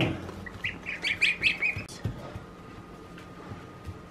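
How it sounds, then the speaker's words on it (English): Goslings and Jersey Giant chicks cheep in a quick series of high, thin peeps up close, with a person talking softly alongside. "So these are little goslings. And little chickens I picked up at Tractor Supply."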